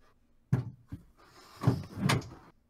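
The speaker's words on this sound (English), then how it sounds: "Alright, I'll close my door so that..." A bedroom door is pushed closed, with a few knocks and thumps followed by a sliding scrape and a final latching bump, close and fairly quiet.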